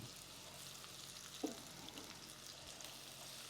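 Jumbo shrimp frying in a pan of Cajun seasoning, a steady close hiss and crackle of sizzling oil with one faint clink midway, no voices.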